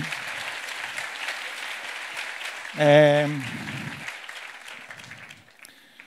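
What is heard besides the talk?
audience applause at a lecture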